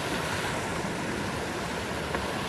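A river rushes over rocks in the mountains of North Carolina after Helene flooding, a steady dense roar of flowing water, close and continuous with no voices.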